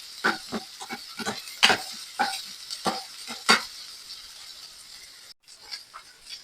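Onions sauté in a pan for a sprouted lentil fry, with repeated close stirring scrapes and clatters over a light sizzle that quiets toward the end.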